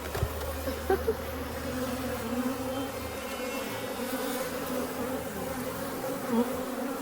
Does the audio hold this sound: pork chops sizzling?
no